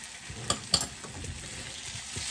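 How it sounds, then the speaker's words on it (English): A tablespoon of butter melts in a hot pan with the heat just turned off, a soft fizzing sizzle opened by two sharp taps close together. "We're adding in a tablespoon of butter."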